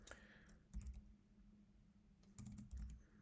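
Someone types code on a computer keyboard in a few quick, quiet clusters of keystrokes separated by brief pauses.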